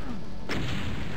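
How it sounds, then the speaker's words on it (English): A rocket launcher fires in the Doom 2 video game, one sudden loud blast followed by a short rumbling boom that fades out. "Rocket launcher out for Monsieur Rabidont over here."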